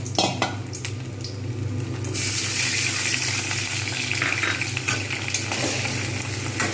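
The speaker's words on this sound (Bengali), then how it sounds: "পেঁয়াজগুলো ভাজা হয়ে গেছে সুতরাং আমি এতে এবারে আদা রসুন পেস্ট আমি কিন্তু দিয়ে দেবো সাথে সাথে একটু জলও দেবো" Fried onions in a pan sizzle as ginger-garlic paste and a splash of water go in. A loud hissing surge follows with steady frying and the scrape and clink of stirring utensils against the pan.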